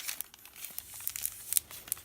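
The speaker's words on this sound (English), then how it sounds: "A little bit of tracing paper." Crisp crinkling and rustling of thin tracing paper being handled close by, with irregular sharp crackles and quiet gaps between them.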